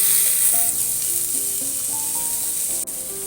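Loud, steady sizzle of garlic, onion and carrot frying in a little oil, with tomato going in. A small clatter comes near the end and no one speaks.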